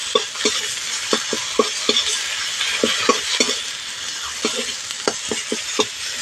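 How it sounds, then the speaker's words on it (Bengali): Ground turmeric, chilli and coriander powder sizzle gently in oil over low heat while a spatula stirs and knocks against the pan, giving a steady frying hiss with regular sharp taps close by. "হালকা আঁচে মশলাগুলো দিয়ে খুব ভালো করে একটু কষিয়ে নেব।"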